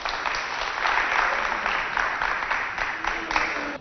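A studio audience applauds a contestant on a televised children's game show in Chad. The clapping is steady and fairly loud, with a thick continuous patter and a few sharper claps standing out.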